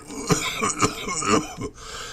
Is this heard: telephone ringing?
no